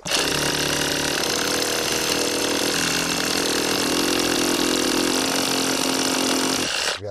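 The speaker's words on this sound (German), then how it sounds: "Es muss sich vorsichtig bohren, damit der Ziegel nicht gleich hier wegspringt." Power drill boring carefully into a brick, a loud, steady, dense motor whine and grinding noise that runs continuously for about seven seconds before stopping abruptly.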